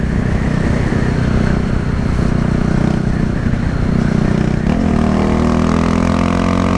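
Seen from inside a following car on a road, a car engine drones loudly and steadily, then its pitch climbs as it accelerates near the end, with road and wind noise underneath.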